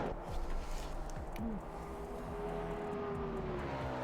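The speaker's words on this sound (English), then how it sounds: "I've got a little bit of some race car noises in your ear" Race car engines in a sim racing game at Spa, with a faint, steady engine drone and shifting whine running low in the mix at a distance, quiet and continuous.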